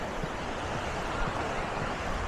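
Sea waves wash steadily on the shore as a soft continuous surf hiss, faint and even, with some wind buffeting mixed in.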